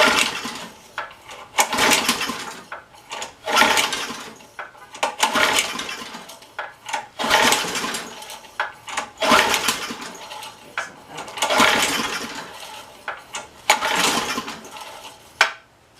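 A McClain lawn edger's small gasoline engine being pull-started with choke open and half throttle, giving repeated bursts of rough cranking and sputtering that never catch, roughly every two seconds, close and loud.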